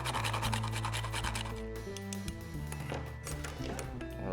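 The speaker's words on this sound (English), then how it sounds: "I'm just gonna grind it with my microplaner here until I have a half teaspoon" Whole nutmeg grated on a microplane for a pumpkin spiced flip cocktail: quiet, regular rasping strokes, partly masked by steady background music.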